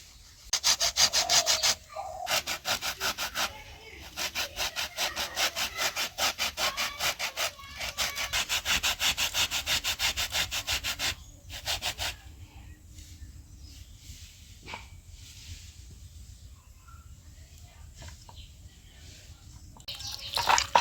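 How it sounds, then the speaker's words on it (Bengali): Yellow lemon peel zested on a grater, heard as fast rhythmic rasping strokes in close, even bursts for about twelve seconds, then giving way to quieter, scattered scraping. "লেবুর এই যে ওপরে হলুদ যে অংশটা একটু গ্রেট করে দেবো"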